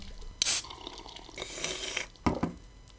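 Water being drunk in the video game Miasmata, with soft splashing and sloshing liquid sounds and a few sharper drips and gulps over a faint steady background, fairly quiet and close.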